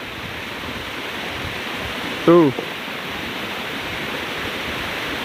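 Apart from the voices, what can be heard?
large river flowing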